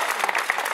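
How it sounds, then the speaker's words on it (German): A short burst of dense, steady clapping from a crowd at a youth triathlon awards ceremony. "großen Applaus"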